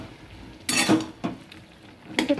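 A metal lid lifted off a pot of fig and potato curry in a village kitchen: a bright clattering clank, a softer knock after it, then another metallic clink near the end, close and clear over a quiet background.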